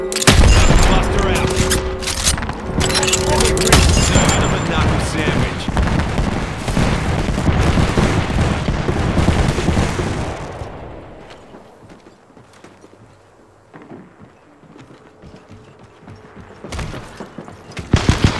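Rapid gunfire crackles loudly in Apex Legends, dense volleys for about ten seconds before fading into quieter game ambience, then a final burst of shots near the end.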